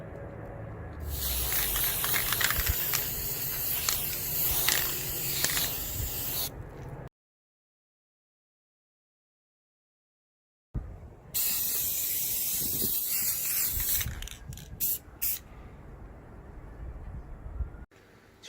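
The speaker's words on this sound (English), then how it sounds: "I'll give them a quick spray of this Army Painter" Army Painter gray spray paint hisses from a can in two long bursts separated by silence. The spray is loud and close, followed by a few short puffs.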